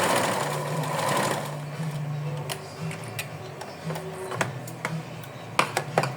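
A sewing machine runs steadily, stitching small doll garments, a pair of doll underpants, with a humming motor and rapid needle clatter for over a second before settling into softer, intermittent ticking and clicks.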